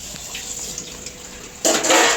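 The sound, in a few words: dishes being washed under running tap water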